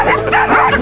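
Small dachshunds bark and yip in short bursts, several quick yaps close by with a whiny edge, loud and continuous across a brief moment.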